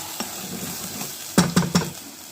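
Ground chicken curry masala sautés in oil, giving a soft, continuous sizzle, then three quick stirring scrapes near the end. The sound is close up and there is no talk.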